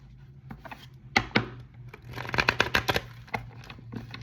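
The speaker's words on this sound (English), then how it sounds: "I'm gonna shuffle this because I don't want to read old stagnant energy." A deck of tarot cards being shuffled close by, uneven bursts of riffling and slapping cards that cluster and grow busier midway, then thin out to a few soft taps, with no talk.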